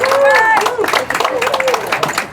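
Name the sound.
audience applause for builder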